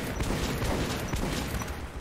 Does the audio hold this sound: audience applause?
no